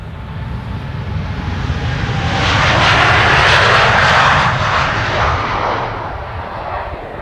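KLM passenger jet, a Boeing 787-10 Dreamliner on a flight to Las Vegas, taking off from Amsterdam Schiphol Airport: a loud roaring engine rumble swells steadily to a peak mid-way and then fades as the plane passes, with no talk.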